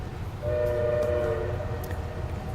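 A passing train with a sustained multi-tone horn blast sounding over rumbling rail noise, heard through played background music during a reading intermission, loud and steady.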